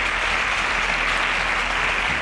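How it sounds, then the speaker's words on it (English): A studio audience at a televised competition applauds a contestant advancing to the next round, a dense, even wash of clapping that stays loud and unbroken throughout, with a low hum beneath. "A round of applause for Chimdubem."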